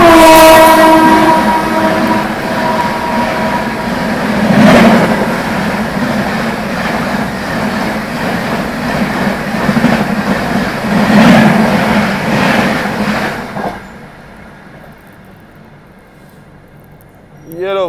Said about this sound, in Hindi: भुवनेश्वर तेजस राजधानी एक्सप्रेस पैरेलल ओवरटेक मार के गई है यहाँ पर